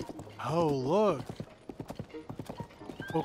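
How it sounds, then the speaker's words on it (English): A horse pulling a cart in Zelda: Tears of the Kingdom, a wavering whinny followed by a brisk, steady run of clip-clopping hooves, close and clear. "Bokoblins with a horse and cart."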